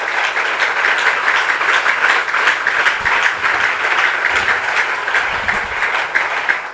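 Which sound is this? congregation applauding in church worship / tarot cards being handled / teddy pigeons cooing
congregation applauding in church worship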